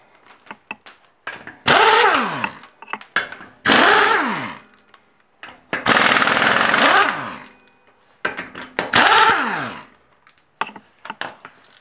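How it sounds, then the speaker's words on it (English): Pneumatic impact gun zipping wheel lug nuts off a car during a brake pad job, several loud rattling bursts of a couple of seconds each with short pauses between, close and alone. "But if you have an impact gun and an air compressor,"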